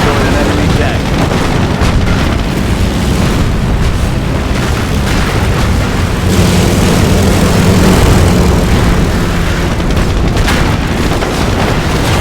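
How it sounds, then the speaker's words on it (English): Warplanes in the Company of Heroes strategy game sweeping over a target on a loud battlefield, a heavy droning roar mixed with booming explosions that swell and fade, with some voices in the background. "aircraft will fly by the target location, targeting all enemies within their flight path"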